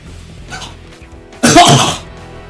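A single harsh cough bursts out loudly after a quieter stretch, close to the listener, with faint background noise before it.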